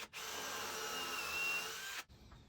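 A power drill with a pocket hole bit bores into wood for a wall-mounted blanket ladder in one sustained two-second burst, a loud close whine that stops abruptly, followed by quiet.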